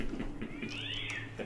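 A human voice imitates an angry cat, producing a single drawn-out, rising-then-falling yowl with a strained, nasal quality, close and fairly loud with no other talk.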